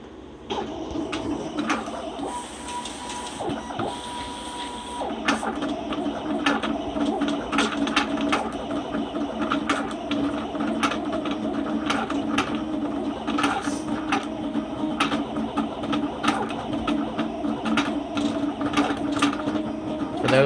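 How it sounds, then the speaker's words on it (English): A vinyl cutter cutting decals, with a continuous motorized whir broken by frequent quick clicks and ticks as the blade and carriage move, loud and close throughout with no speech. "this is a vinyl cutter. Used to cut decals, shapes, stuff like that"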